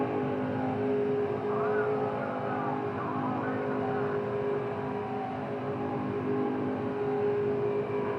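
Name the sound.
truck racing engine in video game NASCAR 08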